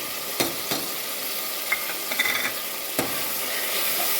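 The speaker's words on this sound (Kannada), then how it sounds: "ಟೊಮೆಟೊವನ್ನು ಹಾಕಿದ ನಂತರ ಚೆನ್ನಾಗಿ ಫ್ರೈ ಮಾಡಿಕೊಳ್ಳಿ." Tomatoes and spices frying in a pan for tomato bath, a soft steady sizzle with a few sharp stirring clicks and scrapes, close and alone.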